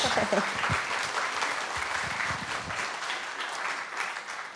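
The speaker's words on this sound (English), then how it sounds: "So everyone, please give Jamie a big round of applause" A symposium audience applauding after a panelist's talk, a full, sustained round of clapping that starts strong and slowly thins, with voices murmuring underneath.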